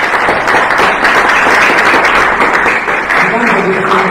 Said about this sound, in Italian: che saluto con un applauso